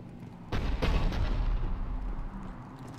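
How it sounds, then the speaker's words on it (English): Heavy cannon fire in the game Mass Effect 3 thumps out as a deep, booming blast followed by a second hit and a rumbling tail, with no talk. "The cannon fire is clearing the way."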